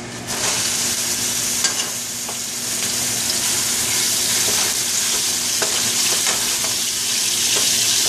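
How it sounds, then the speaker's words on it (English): Ground beef fries in about two tablespoons of oil in a pot, making a loud, dense, steady sizzle that lasts the whole time, with a few faint crackles and no talking. "You're going to add your beef first."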